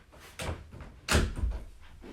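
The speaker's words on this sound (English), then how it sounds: "Let me close the door." An indoor door is shut in two nearby thumps, a softer knock and then a firmer closing bump, with a faint rattle after it.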